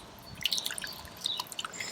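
A whole chicken is dunked and wiggled in scalding water during processing, giving soft close sloshing, dripping and squishing splashes in irregular bursts with no talk.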